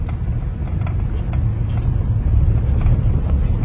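A car in first gear during a driving lesson rumbles steadily from inside the cabin, with a low, constant engine and road drone and no clear speech.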